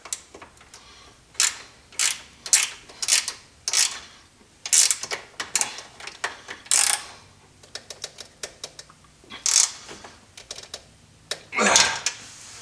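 A wrench works a nut on the hitch bolt of a Polaris Sportsman 570 quad during a hitch install, making a series of sharp close ratcheting clicks in uneven bursts with short pauses, and no talk.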